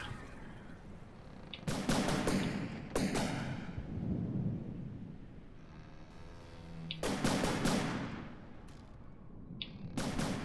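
Heavy ship guns fire in From the Depths naval combat, sinking a blocky ocean liner: several loud, sharp booming blasts come in clusters with rumbling tails and quieter gaps between salvos, with no talk.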